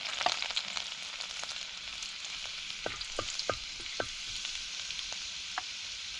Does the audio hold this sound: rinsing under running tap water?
no